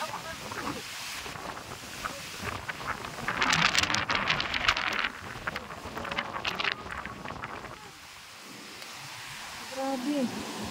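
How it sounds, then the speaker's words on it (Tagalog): Very strong typhoon wind with rain gusts across a microphone during Typhoon Uwan in the Philippines, a steady rushing roar that swells louder midway, with people talking and exclaiming over it. "sobrang lakas ng hangin"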